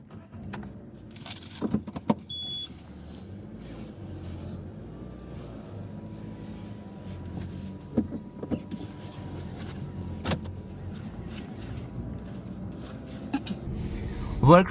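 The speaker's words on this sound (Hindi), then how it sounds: "ये गाड़ी को अब अंदर लेके जाया जा रहा है।" A Maruti Suzuki Ignis is driven slowly into a service workshop, its engine idling low and quiet, with scattered clicks and clunks of doors and equipment nearby and a person talking at times.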